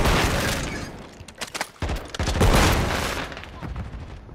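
Gunfire in the video game Call of Duty, dense overlapping bursts of shots and booms with a short lull midway before the firing swells again, loud and continuous throughout.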